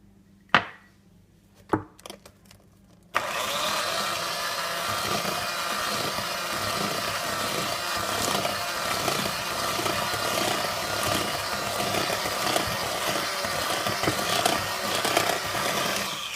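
Butter cake batter being mixed after flour is added, likely with an electric mixer: a steady, loud, continuous whirring drone that runs without a break after a few short knocks at the start.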